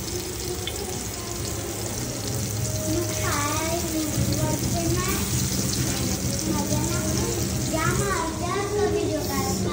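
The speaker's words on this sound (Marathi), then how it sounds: "मस्त यांना फ्राय करून घेऊ आपण पहिले." Food fries in a pan with a steady, continuous sizzle that runs the whole time, while people, including a child, talk nearby.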